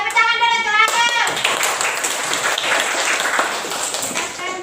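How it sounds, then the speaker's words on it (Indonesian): Students clapping hands in a classroom, a burst of quick claps after a voice at the start, fairly close and steady for several seconds. "tepuk tangan dulu tuh Abang"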